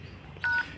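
A single short phone keypad DTMF beep, crisp and close, sounding once while a code is entered on a mobile phone.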